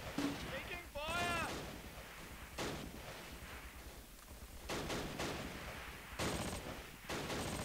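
Gunfire in the Close Combat video game crackles in repeated, clustered bursts that rise and fall in loudness. A voice briefly speaks near the start.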